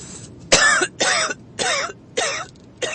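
A woman coughs in five separate harsh bursts, close and loud, each about a third of a second long, with short pauses between.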